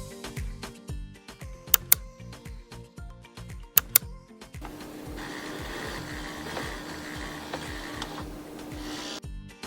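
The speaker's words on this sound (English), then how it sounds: "And the smooth whirling sound is made by the pump motor refilling the ice tray with water." Refrigerator ice maker's pump motor refilling the ice tray with water: a series of clicks and ticks with a couple of sharp snaps, then a smooth, steady whirring hum for the remaining seconds.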